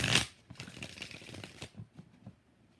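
Rider-Waite tarot cards are riffled and shuffled by hand, a sharp burst of card flutter followed by a run of softer papery flicks and taps, close and alone.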